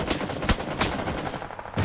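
Rapid video-game gunfire crackles through a Thai tournament match of RAMINTRA64, several loud bursts and single shots stacked in a busy firefight with no clear voices.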